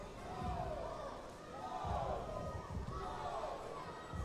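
Distant crowd cheering and shouting in an indoor aquatics venue during a swimming championship race, a steady noisy swell with rising surges under the general din.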